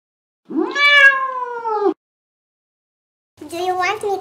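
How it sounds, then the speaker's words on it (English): A cat meows twice, close and loud: a long, clear, rising-then-falling meow, a short silence, then a shorter second meow. "Cat."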